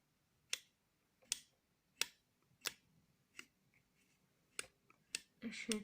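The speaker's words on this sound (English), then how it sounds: "You should hear it clicking onto the plectrum." Sharp, evenly spaced clicks of a bassoon reed clicking onto a plectrum sound close up, about once every second, followed by a brief scraping rustle at the end.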